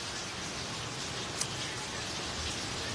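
Steady rain falls in Saigon, a dense even hiss of drops on surfaces, close and continuous with a single brief tick partway through and no voices.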